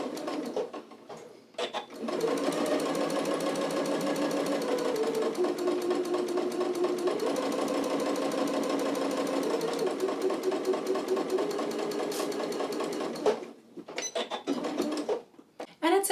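A sewing machine runs a straight line of stitching along a 1/4 inch seam allowance for a French seam, a steady loud whir lasting about eleven seconds, with brief handling noises before and after.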